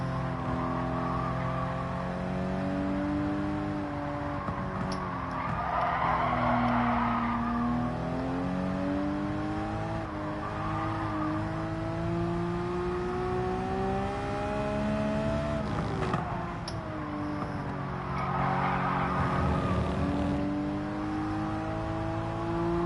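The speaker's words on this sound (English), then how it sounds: "That's nice drifting in this game" A race car in Gran Turismo 7 drifts through corners, its engine holding a steady high whine that rises and falls while the tires squeal and skid continuously.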